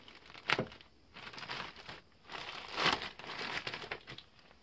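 A package for a remote controller is cut open during unboxing, with crinkling and tearing of packaging in bursts, loud crackles near the start and middle, then softer rustling.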